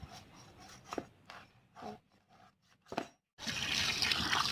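Peeled cassava being washed by hand under running water, with intermittent splashing and handling sounds that end in a steady, louder rush of flowing water from a tap.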